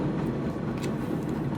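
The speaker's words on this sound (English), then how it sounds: "Let the train go." Train rolling past at close range, a steady broadband rumble with rail-car noise holding throughout, no voices.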